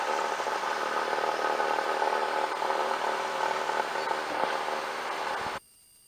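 A Cessna light aircraft engine roars steadily through its takeoff roll, a loud, even drone that holds close and constant before cutting off abruptly near the end.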